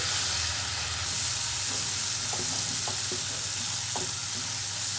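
Spice paste with a tablespoon of garlic paste frying in a pan while being stirred steadily, a constant sizzle with soft clinks and scrapes of the spoon, up close.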